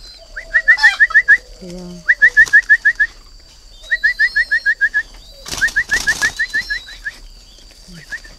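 Tame breeding doves are caught by hand, giving a short burst of loud wing flapping near the middle amid repeated rhythmic chirping bird calls, with one brief spoken word.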